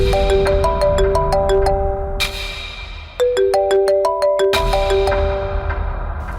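A loud electronic phone ringtone plays a bright repeating melody of plinking notes, pausing briefly and then starting the same phrase again.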